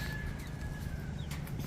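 Backyard pen of hens, including a blue Americana, gives soft, faint clucks and a thin high call against quiet outdoor background, distant and sparse with no speech.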